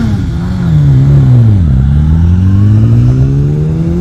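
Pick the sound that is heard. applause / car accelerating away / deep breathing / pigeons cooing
car accelerating away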